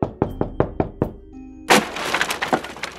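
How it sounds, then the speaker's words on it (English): Six quick, solid knocks rap on a door at close range, followed by a sudden loud crashing, rustling burst. "Let's knock."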